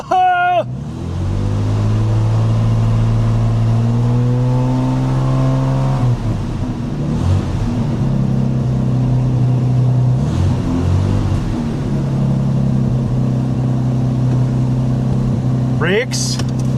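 Long-abandoned barn-find Jaguar car with no water pump running and driving after 20 years, a loud steady engine drone heard from inside, with a brief pitch change midway as it shifts, and people talking over it.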